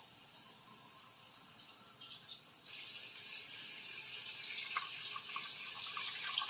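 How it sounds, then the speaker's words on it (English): Water pours steadily from a rinsed can into a cooking pot during dinner prep, a continuous bright splashing hiss that grows slightly fuller partway through, with no talking. "I'm going to add 2 to 3 cans of water to the 3 cups."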